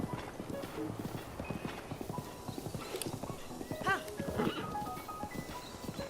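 In Zelda Breath of the Wild, a horse's hooves clip-clop in a steady walking rhythm, close and moderately loud, with a short whinny midway and no talk.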